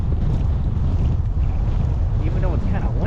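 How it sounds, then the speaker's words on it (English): Wind blowing outdoors along a rural state trail during a bike ride, a steady loud rush and rumble battering the microphone throughout, with faint talk beneath it. "Even though it's kind of windy out."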